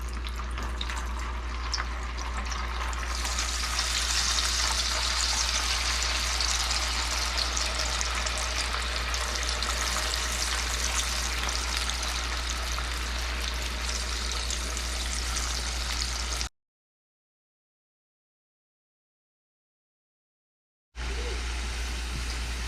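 Potatoes for homemade french fries sizzle and crackle loudly in hot oil, a steady dense hiss that cuts off for a few seconds near the end before resuming.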